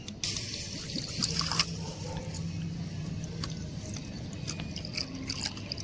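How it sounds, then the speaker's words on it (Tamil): Steady trickling and splashing of water being poured into a miniature cooking pot, a continuous liquid gurgle that runs throughout at close range. "ஃபர்ஸ்ட் நம்ம தண்ணியை ஊற்றிடணும்."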